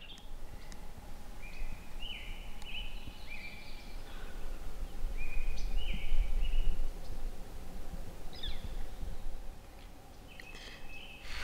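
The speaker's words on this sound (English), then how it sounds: "it's time to listen to the birds" Morning birdsong on the Great Divide trail in New Mexico, with clear repeated whistled phrases ringing out at intervals over steady low wind or ambient rumble.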